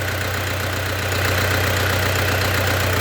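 A running generator engine gives off a steady, close, loud drone with a constant low hum that stays unchanged for three seconds, with no voices.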